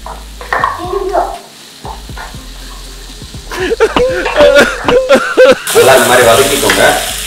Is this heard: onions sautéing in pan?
yes